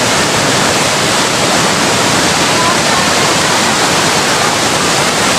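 Dense, roaring rush of falling water from Malatap Falls in Labo, Camarines Norte, Philippines, fills the whole stretch, loud and unbroken, heard up close.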